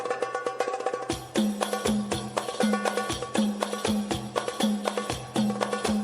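Hadroh percussion sample played back for a sound check, with a quick run of light hits and then a steady pattern of loud, punchy drum strikes over a low sustained bass tone, close and alone.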